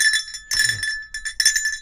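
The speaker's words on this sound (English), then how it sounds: "Nice long bell ring." A bell rings with a bright, ringing tone, struck a few times in quick succession so that it sustains for about two seconds. It is loud and close, with no voices.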